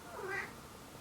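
A cat gives a single short meow, fairly faint and indoors, rising briefly and then fading into a quiet room.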